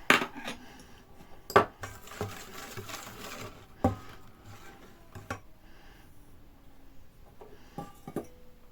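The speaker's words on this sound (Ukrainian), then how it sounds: "Тепер добре розмішую" Viennese waffle batter with lemon juice and flour being stirred by hand in a bowl: scattered metallic clinks and taps of a utensil against the dish, with soft scraping between the knocks, fairly quiet and close.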